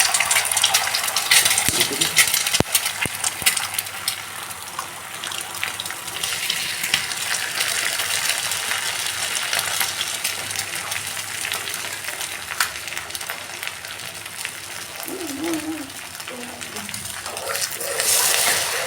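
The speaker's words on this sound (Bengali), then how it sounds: "ডিমটাকে আলাদা করে ফ্রাই করে নিচ্ছি।" Two eggs cracked into hot white oil sizzle and crackle in a pan, a steady loud frying hiss with small pops and occasional utensil clinks throughout.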